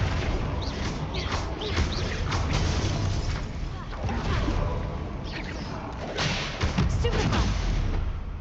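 In the Hogwarts Legacy game, the Confringo spell is cast in a fight: a run of fiery blasts, whooshes and thuds that fill the clip with dense, loud combat noise.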